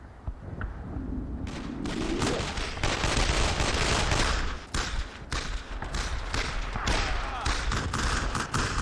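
Bursts of machine gun fire and other gunshots rattle loudly and almost continuously in a Brothers in Arms World War II shooter during a flanking assault, and a voice shouts over the battle.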